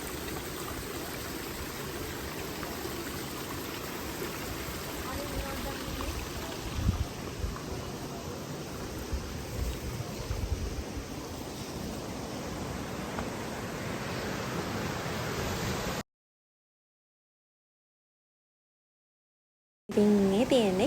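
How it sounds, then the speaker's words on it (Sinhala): Kitulella waterfall just below the railway station, a broad, steady rushing roar heard from a distance, continuous for about sixteen seconds before a sudden cut to silence and a short burst of sound at the end. "ඉතින් මේ තියෙන්නේ කිතල් ඇල්ල ස්ටේෂන් එක ළඟම පල්ලෙහා තමයි තියෙන්නේ"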